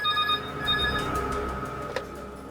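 A telephone rings with a repeating electronic tone, fairly close and clear, with no talking.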